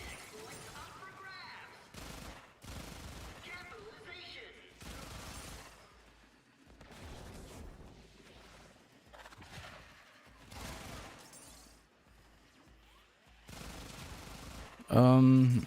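Gunfire in a video game crackles in repeated rapid bursts and single shots, fairly faint, broken by short gaps, with a louder burst at the end.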